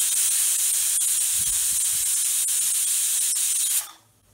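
A pressure cooker holding meal maker biryani lets out a loud, sustained high-pitched hissing whistle close by, which cuts off abruptly near the end, leaving quiet.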